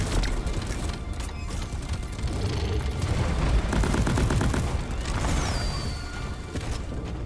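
Dense, continuous gunfire from a Lok-1 rifle in the video game Deep Rock Galactic, with rapid shots blending with metallic clatter and crashing impacts throughout.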